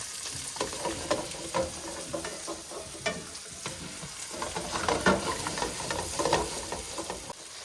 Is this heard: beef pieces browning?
yes